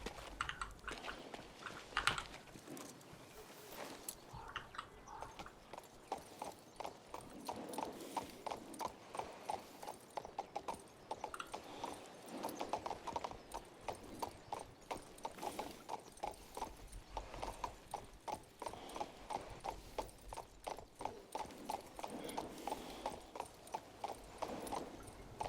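Horse hooves clip-clop steadily in the King's Bounty 2 video game, a continuous rapid rhythmic trot of sharp hoof strikes, moderately loud, running the whole time with no talk.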